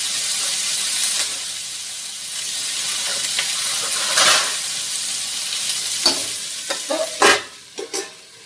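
Vegetable curry with tempering sizzles and fries steadily in a pan, a continuous close hiss broken near the end by a few sharper stirring scrapes and clinks.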